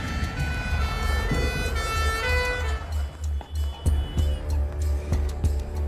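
An ambulance siren wails with rising and falling tones for the first few seconds, then gives way to road and engine noise with scattered knocks.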